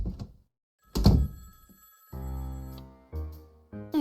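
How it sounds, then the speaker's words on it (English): In the video game Nine Noir Lives, a dull thunk comes first, followed by a telephone ringing in repeated electronic bursts with short gaps between them. "Yo, Whiskers, there goes the phone."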